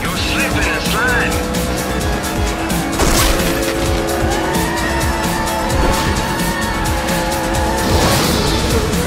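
Cars race in Sonic & All-Stars Racing Transformed, with loud engines and tire squeals as vehicles slip and slide, and game sounds and a voice running throughout.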